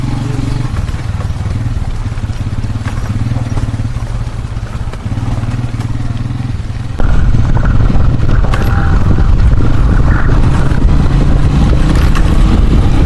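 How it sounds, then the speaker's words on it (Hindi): A motorcycle rumbles loudly along a rough, waterlogged mountain road, its engine droning steadily with rattling and splashing clatter that grows louder partway through. "बड़ी मुश्किल से बाइक को यहाँ पे बंदा कंट्रोल करता है।"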